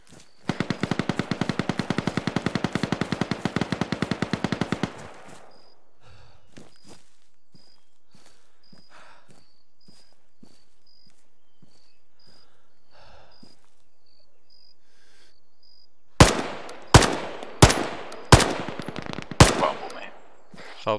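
Rapid automatic gunfire in the military game Arma, a long sustained burst of shots, then quiet with insects chirping and distant scattered pops, ending in several loud, close single shots spaced a second or so apart.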